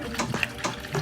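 Water pours into a pot while a chuck roast is being prepared, coming through as a brief, splashing stream with uneven bursts over about a second, close and fairly clear, with no talking.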